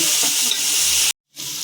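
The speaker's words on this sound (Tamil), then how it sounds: "ஆனியன் வந்து நல்லா ப்ரௌனாக, ரொம்ப டார்க் ப்ரௌனில் வரணுமா. ஸோ அதனால் நல்லா ஃப்ரை ஆகட்டும் இது" Chopped onions fry hard in a pan until dark brown, ready for seeraga samba rice in a Sunday lunch; a steady, loud sizzle hisses close by, cuts out briefly to silence, then returns.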